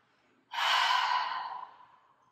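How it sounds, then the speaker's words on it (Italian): A single long exhale through the mouth after a deep breath during a restorative yoga session, a close breathy rush that starts abruptly after a short silence and slowly fades away. "lasciamo andare un lungo espiro dalla bocca"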